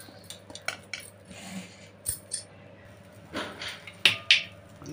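Fried herbs, including mint, scooped with a spoon into a mixer jar: light metallic scrapes and clinks against the jar, irregular and close, with two sharper taps near the end and no talk.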